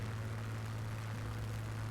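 A Spitfire's piston aircraft engine drones in a flight simulator game: a steady, loud, low hum with a constant pitch, unbroken for the whole two seconds and with no voices.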